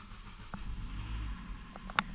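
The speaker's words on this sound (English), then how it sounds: "We now start up, and it actually does run on gas this as well" A Renault Clio engine, running on gas, idles with a low steady rumble close by, marked by a few light clicks and knocks.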